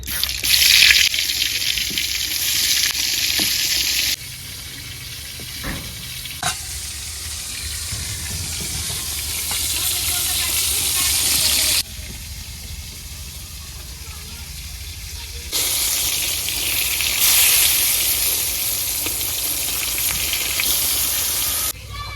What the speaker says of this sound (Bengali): বেগুন ভাজা হয়ে গেছে